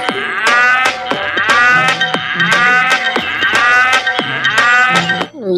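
A toy cow gives a series of loud, electronic moos, about six repeated calls in a steady rhythm, close and clear with no talking.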